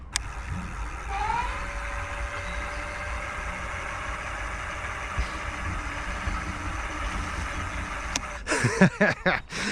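Lankeleisi XT750 e-bike motor running in throttle mode, a steady electric whine that rises in pitch and then holds, before a few clattering knocks near the end.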